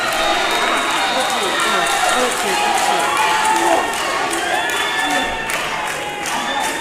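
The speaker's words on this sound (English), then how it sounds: "The crowd is going crazy." A packed crowd cheers and roars without pause at the final of a kicking-and-throwing fight match, with strong support for a Kenyan fighter, the noise dense and steady and a voice talking under it.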